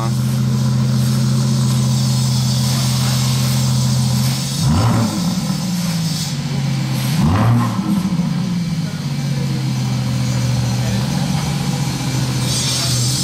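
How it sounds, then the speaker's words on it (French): A 2025 Aston Martin Vanquish V12 idling with a loud, steady low rumble, rising briefly in two short blips, close by and alone throughout. "Le V12 est ronronnant"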